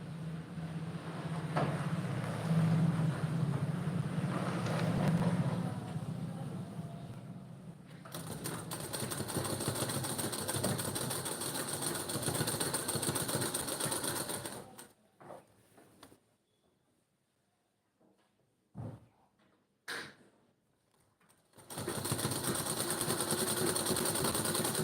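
A sewing machine stitches the side slit of a kurti with a fast, even mechanical whir, loud and close. It stops for several seconds, gives a couple of short bursts, then runs steadily again.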